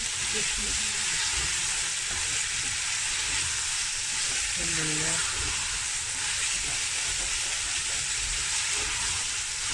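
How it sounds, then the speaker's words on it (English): Lamb sizzles steadily in a hot frying pan, a constant crackling hiss; a voice speaks briefly partway through. "And here it's sizzling away."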